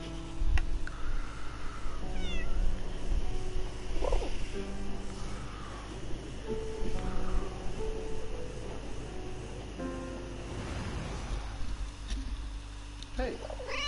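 A cat meows repeatedly in the war-era game 11-11: Memories Retold, its cries rising over game music and ambience while a person talks over much of it.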